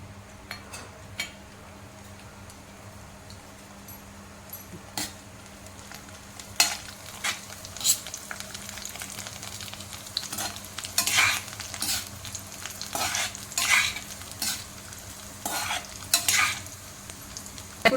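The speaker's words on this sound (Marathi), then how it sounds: "त्या तुपामध्ये आपल्याला ड्रायफ्रूट चांगलं तळून घ्यायचं आहे" Dry fruits frying in ghee in a pan while chana dal laddu are made, with a soft steady sizzle and scattered stirring clinks and scrapes that grow busier toward the end.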